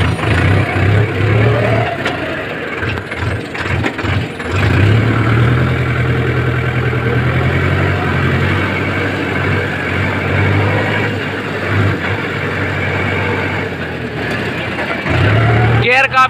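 Vehicle engine running close by as the driver drops into a low gear and turns, a steady mid-pitched hum that rises and dips with several short revs, under someone talking.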